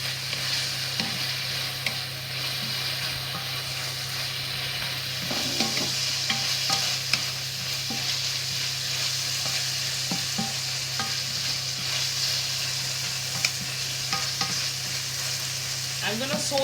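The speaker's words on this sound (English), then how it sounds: "I'm gonna saute the onion, tomato and my green seasoning for about 5 minutes until it is a little bit brown" Onion, tomato and green seasoning sautéing in a pan, a steady sizzle with occasional scrapes and clinks of stirring, plus a constant low hum underneath.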